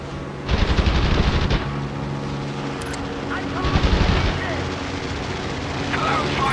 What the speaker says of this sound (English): Keep attacking until your guns stop firing.